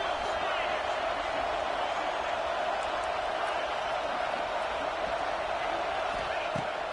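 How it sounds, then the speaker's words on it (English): A college football video game stadium crowd roars steadily in a dense continuous wash during a big fourth-down play, loud and unbroken, with faint thuds underneath. "This crowd bringing serious noise on this huge, huge fourth down play."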